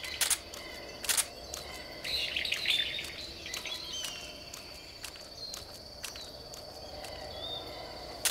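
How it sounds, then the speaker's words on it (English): Birds chirp and tweet in the Metal Gear Solid 3: Snake Eater jungle, a few sharp high calls among steady insect-like ambience, moderately near with no talk over them. "No, that's a bird."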